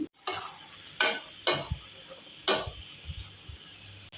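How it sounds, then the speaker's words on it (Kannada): Spinach and green chillies fry in a pan, with a few sharp scraping stirs of a spatula against the metal at irregular intervals over a soft, faint sizzle, close up and without talking. "ಮೆಣಸಿನ್ಕಾಯಿ ಹುರಿತಿದ್ದಂಗೆ ಪಾಲಕ್ ಹಾಕಿದ್ದೀನಿ. ಒಂದು 2-3 ನಿಮಿಷ ಹುರ್ಕೋತಾ ಇದ್ದೀನಿ."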